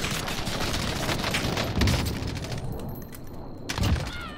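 Gunfire hitting a car in the video game Warzone, dense crackling bursts with heavy thuds, loud and continuous, easing off briefly before another booming impact near the end.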